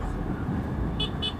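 Car horns toot twice in quick succession amid steady roadway rumble, heard from a motorcycle riding through dense city traffic; the honks come late and sharp over the continuous engine and traffic noise.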